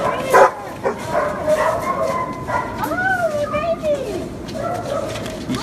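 Several dogs bark, yip and whimper at an animal shelter, loud and close with some overlapping calls, while a person speaks over the noise throughout.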